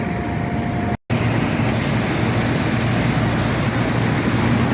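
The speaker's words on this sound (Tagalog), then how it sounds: "Umapatak na naman ang ulan." Steady rain falls on surfaces outdoors under a darkening sky in Saudi Arabia, a dense continuous patter with a low rumble beneath, broken once by a momentary dropout near the start; no voices are heard.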